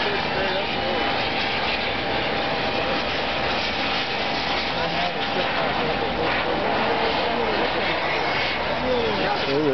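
An RC turbine jet plane takes off down a runway and climbs straight up, producing a continuous, loud, broadband turbine roar that holds steady for the whole stretch.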